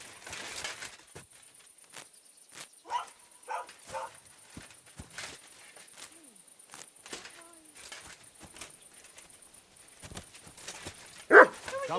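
In the video game Kingdom Come: Deliverance 2, a dog gives scattered short barks and yips at irregular intervals, moderately near, with a louder bark near the end amid quiet game ambience and footsteps.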